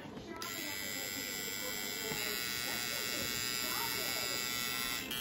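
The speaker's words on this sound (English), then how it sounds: "I might use this ear nose trimmer in the shop" A small electric ear and nose trimmer hums in a steady close buzz that starts suddenly and runs on without a break, with someone talking quietly underneath.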